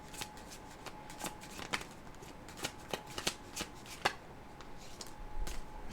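Tarot cards shuffle in repeated quick riffling bursts, close and fairly quiet, with no talk over them.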